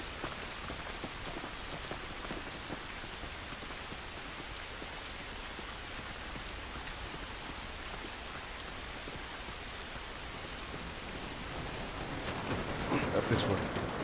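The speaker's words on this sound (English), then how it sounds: "This rain ain't gonna do us any good" Steady heavy rain pours down in The Last of Us, a dense unbroken hiss with distant rumbling thunder, swelling slightly near the end.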